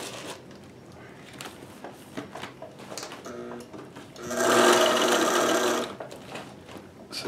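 Sewing machine stitching a 3D printer cover, a steady loud whirring run of about a second and a half in the middle, with softer handling clicks and rustling before and after.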